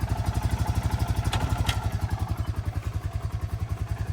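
A Honda Rancher 420 ATV runs raised on jack stands with four-wheel drive engaged, its engine chugging in a steady, fast, even pulse close by, with a couple of brief metallic clatters partway through.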